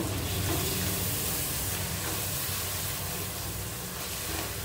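Steady sizzling hiss as yogurt goes into frying avakaya biryani in a pan, a constant close frying crackle with no break.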